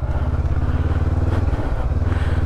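A 2022 Honda CB500X motorcycle idles close by with a steady, throbbing low engine pulse that dips briefly midway.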